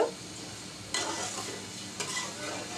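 Sugar melting in a pan for modhupuli pitha is stirred with steady scraping and a soft sizzle, close and continuous, with two sharper bursts of stirring partway through.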